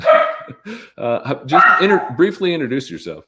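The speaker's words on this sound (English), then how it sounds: "Apologize for the dog." A dog barks and yips in short, sharp bursts close by, mixed in under a person who is talking.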